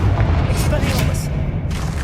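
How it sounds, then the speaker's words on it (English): A spell burst cast in the video game Hogwarts Legacy, a booming magical blast with bright crackling flashes, loud and close over a steady low rumble of game sound, with a voice speaking over it. "Expelliarmus."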